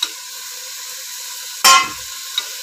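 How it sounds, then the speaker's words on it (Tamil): Beans, carrot and potato sautéing in a hot pan give a steady soft sizzle, with a louder burst of frying and stirring partway through, close and alone with no talk. "போட்டு நல்லா இப்படி வதக்கி கொஞ்ச நேரம் மூடி வச்சிடுவோம்."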